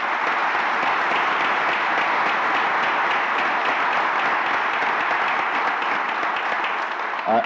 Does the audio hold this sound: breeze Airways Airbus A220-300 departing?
no